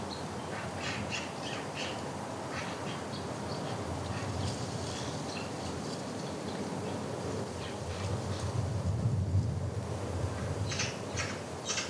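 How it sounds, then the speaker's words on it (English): Magpie chattering in rapid, harsh bursts, moderately close, repeating in clusters across the stretch over a steady outdoor background hiss. "The sound of the chattering magpie really gets to the large dark bird."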